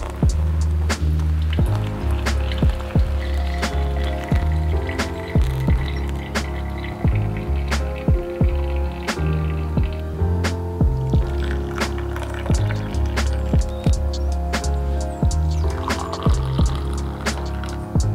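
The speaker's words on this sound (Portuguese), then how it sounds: "Eu esquento a água aqui rapidinho, já passo café." Hot water poured through a filter to brew drip coffee at home, a continuous liquid pour with scattered drips and splashes, close and steady throughout, with a faint tonal background underneath.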